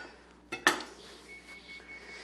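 A kitchen knife is set down on a counter while delicata squash is prepared, giving two quick metallic clinks close by, the second louder, against a quiet room.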